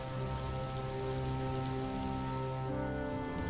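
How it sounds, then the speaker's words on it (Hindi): First winter rain falling steadily in a cartoon village scene, a continuous close hiss of drops on surfaces with no voices, set against a sustained musical drone. "ठंड की पहली बारिश है, सुबह तक खत्म हो जाएगी"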